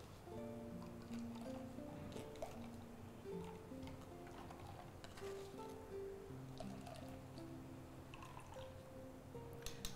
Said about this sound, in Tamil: அரைச்சதை வச்சு ஃபஸ்ட்டு தேங்காய் பால் நம்ம எடுத்துடலாம்